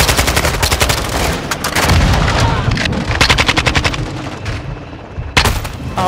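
Heavy gunfire in Call of Duty: Modern Warfare II on PC: rapid automatic bursts and booming shots crowd together for several seconds, loud and close, with brief gaps and no clear speech.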